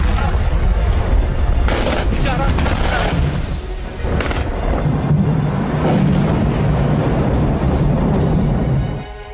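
Blasts from an Israeli strike on Beirut, a dense barrage of booming, thudding impacts and crackling rumble sounding continuously and loudly, with no clear pause, and heavy low-end roar throughout.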